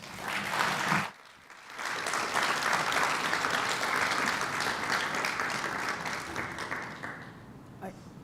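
A voice speaks briefly, then an audience breaks into sustained applause that fills the room for several seconds.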